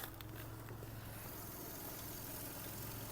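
A naturally aspirated 1.6-litre Volkswagen Golf engine idles in a steady, low, even hum that runs without a break, heard from close by with no talking.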